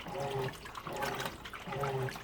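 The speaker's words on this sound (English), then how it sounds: "we switched over to the wash cycle, and it's still adding a little bit of water here and there" Water pours into a Kenmore HE top-load washer during its wash cycle, a steady rushing fill close by with a low hum that swells and eases in short repeating bursts.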